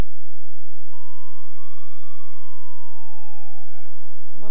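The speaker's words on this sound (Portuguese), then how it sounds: "desliga a sirena" A wailing emergency vehicle siren in the game Emergency 4 with a Portugal mod sweeps slowly up and then down in one long loud tone before cutting off.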